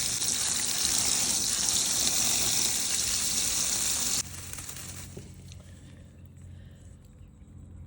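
Water runs loudly from a tap or hose while a pot covered in birch bark is rinsed off, a steady hiss that drops sharply partway through to a quieter trickling flow, with no talking.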